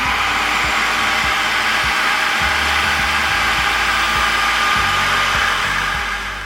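Blender pureeing pesto made with garlic and extra virgin olive oil, a loud steady motor whir with a churning low rumble, running close and uninterrupted before easing slightly at the end.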